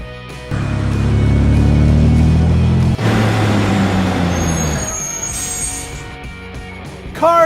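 A limousine engine runs loud and close, its note sliding upward, dropping back at about three seconds and rising again, with a hiss and a brief bright burst at the end.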